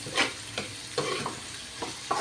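Vegetables sautéed in a pan, a quiet continuous sizzle broken by several sharp stirring scrapes and clicks at uneven intervals.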